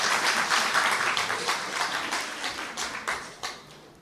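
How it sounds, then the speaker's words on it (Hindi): Audience at a spiritual discourse applauds, a full round of clapping that starts strong and tapers off, ending in a few scattered, separate claps. "तालियां बजाओ ना थोड़ा अच्छी तरह से"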